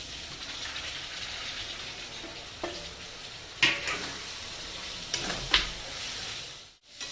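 Banana peels tipped into hot oil seasoned with sugar and whole spices fry with a continuous moderate hiss, punctuated by a few sharp clatters from the spoon and pan, without any speech.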